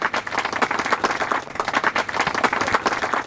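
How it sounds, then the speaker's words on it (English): A studio crowd applauds during a sports talk show, dense and continuous clapping at moderate level that holds steady throughout with no clear talk over it. "round of applause"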